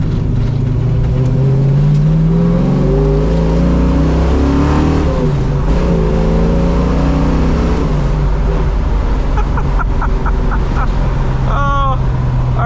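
A 1970 Ford Mustang Fastback with a V8 and Flowmaster exhaust idles with a deep, loud rumble, then rises and falls through several revs close by, ending in quick blips.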